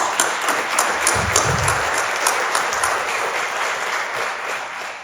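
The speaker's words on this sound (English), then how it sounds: "so I want to give him a round of applause." At a Veterans Day ceremony, a crowd gives a round of applause, continuous and fairly loud, with many hands clapping steadily throughout.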